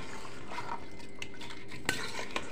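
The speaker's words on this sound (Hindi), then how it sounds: "और इसको चम्मच से कर लेंगे हम अच्छे से मिक्स" A spoon stirs mutton stew, with a glass of water just added, in a metal pot. Close scraping, swishing and a few sharp clinks of metal against metal, with no voices.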